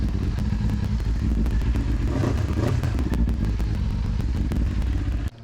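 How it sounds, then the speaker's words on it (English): A Kawasaki Ninja 400 engine idles steadily after an oil change, a close, even rumble with mechanical clatter lasting about five seconds before it cuts off abruptly. "I'm gonna turn the engine, let it run for 1 minute, shut it off"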